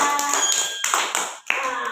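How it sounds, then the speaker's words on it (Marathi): Children in a classroom clapping their hands together, a burst of sharp, overlapping claps with a short pause near the end, close and fairly loud. "तिला टाळ्या वाजवा"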